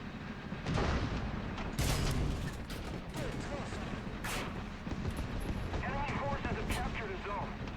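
Tank cannon fire in War Thunder, a few heavy booming blasts spaced seconds apart with rumbling aftershocks, set against battlefield noise and someone talking.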